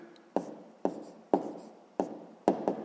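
A pen writes a fraction by hand on paper, five short scratchy strokes spaced evenly at close range with quiet gaps between them.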